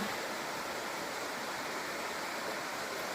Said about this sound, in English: Just a beautiful river coming down through here, or stream.